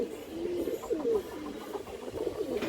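A female silver-line pigeon coos softly and repeatedly, low rolling warbles close by, with faint background hiss.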